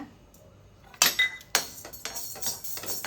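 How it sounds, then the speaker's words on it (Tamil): Dry toor dal lentils tipped into a hot vadai pan for roasting, a sharp clattering pour of hard grains followed by several rattling bursts as the pan is shaken or stirred, close and fairly loud. "வடை சட்டி சூடாக இருக்குங்க இப்போ பருப்பு போட்டு துவரம் பருப்பு வறுத்துக்கலாங்க"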